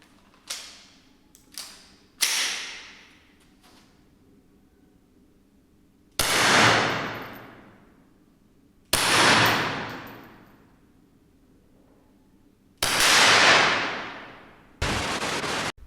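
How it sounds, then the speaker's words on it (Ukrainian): Three loud subsonic FMJ rounds fired from a Kel-Tec SUB2000 carbine, each sharp report followed by a decaying tail, spaced a few seconds apart after a few softer clicks of handling. "Тепер три постріли дозвукова куля."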